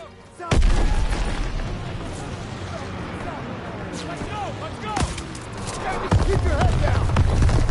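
Artillery explosions in Call of Duty WWII, a heavy boom opening the clip followed by further deep blasts and rumbling battle noise, with voices talking throughout.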